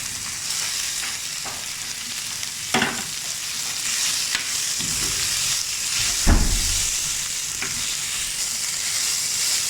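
Onions for a chicken samosa filling sautéing in a pan, a steady close sizzle with a few louder stirring scrapes and knocks, no talking.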